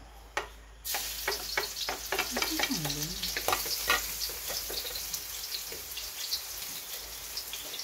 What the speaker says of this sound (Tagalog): Yung mantika, lagyan na natin ng bawang.